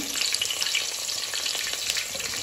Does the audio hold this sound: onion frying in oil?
yes